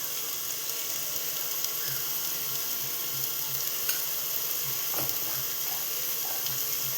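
Turmeric and chili powder sautéing in hot oil for a Marathi-style matar masala, a steady close sizzle with faint stirring clinks throughout, no talking.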